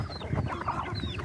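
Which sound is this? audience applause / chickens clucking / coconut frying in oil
chickens clucking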